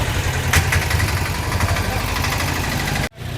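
Tuk-tuk engines chug and idle in busy Colombo street traffic in Sri Lanka, a steady close mechanical rumble with passing vehicle noise that cuts off abruptly near the end.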